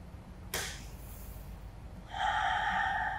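A single sharp, breathy exhale comes through during a quiet lower-back stretching routine, followed by a soft, steady ringing tone in an otherwise calm, still room.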